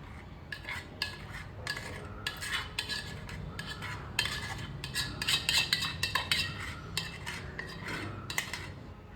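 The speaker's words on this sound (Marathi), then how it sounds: "हे जे बॅटर आहे ते आपल्याला ह्या बॉलमध्ये काढून" A thick caramel custard batter is scooped out of a pan into a bowl, with repeated clinks and scrapes of a metal spoon against cookware in irregular bursts, close and fairly clear.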